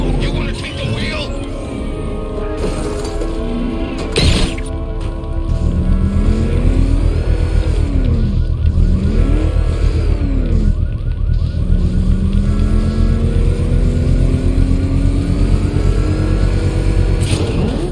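A car drives in Batman: Arkham Knight, its engine droning loudly and rising and falling in pitch as it revs and accelerates, with game voices talking over it.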